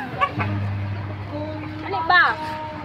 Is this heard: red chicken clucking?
yes